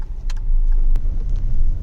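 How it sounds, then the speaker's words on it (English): Traffic at a busy four-road junction in Margao, a steady close rumble of passing cars and motor vehicles with a couple of brief sharper noises on top, no talking. "Here, because it's a 4-road junction, there's always traffic over here."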